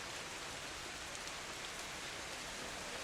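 Steady rain falling outdoors, a dense, even hiss that holds at constant level throughout with no voices over it.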